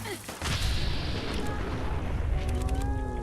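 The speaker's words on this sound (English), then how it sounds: "Big old explosions" Repeated heavy booms of explosions in the video game Fallout 4 rumble over a dense, continuous battle din, with a few tonal game effects layered on top.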